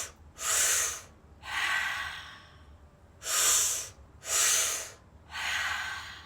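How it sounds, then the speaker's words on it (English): Five slow, deliberate breaths pass through the nose and mouth, sharp inhales alternating with long, airy exhales in a steady rhythm, close and alone with no talk, demonstrating a tension-release breathing exercise. "I'm going to demo it again without me talking through it so you can see the momentum of each breath"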